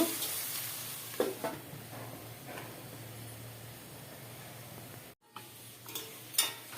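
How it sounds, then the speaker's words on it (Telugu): Ginger garlic paste fries in oil with a faint, steady sizzle, broken by a few light knocks of a spoon against the pan and a brief drop to near silence. "ఇప్పుడు అల్లం వెల్లుల్లి పేస్ట్ కూడా దీంట్లో బాగా వేగాలి నూనెలో"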